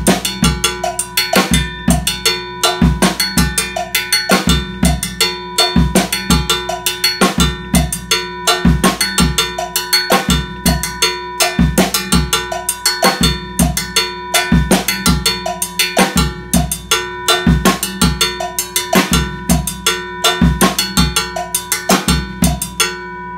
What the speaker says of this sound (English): I'm going to play it on the cowbell.